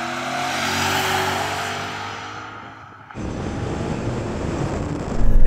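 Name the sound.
BMW M5 cars accelerating in a rolling drag race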